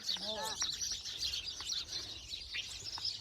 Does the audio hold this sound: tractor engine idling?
no